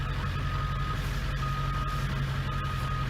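A tall bus being parked by a house gives off steady, regularly spaced reversing beeps over a loud, continuous engine rumble, with no talk.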